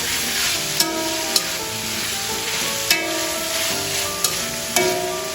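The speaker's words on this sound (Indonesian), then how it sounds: "Kita masukkan toconya. Aduk sebentar, nah, biar dia tercampur dulu dengan rata." Tauco Padang, a fermented soybean paste, sizzles steadily in a frying pan while it is stirred, with a few sharp clinks of the utensil against the pan over an even, continuous fry. No one speaks.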